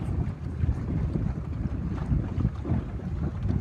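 Strong wind buffeting the microphone during a sailboat race on open water, a loud continuous low roar with gusty swells and faint wave wash underneath, no talking.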